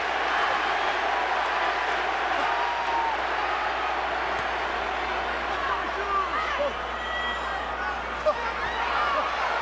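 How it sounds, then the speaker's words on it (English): A boxing arena crowd roars steadily through a late round of Pacquiao versus Joshua Clottey, a dense continuous wall of cheering and shouting with scattered claps, while commentators talk over it. "Crowd wanting to see the knockout."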